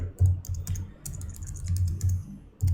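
Rapid keystrokes on a computer keyboard while PHP code is typed, a steady run of close, crisp clicks with brief pauses and a burst of heavier key hits near the end.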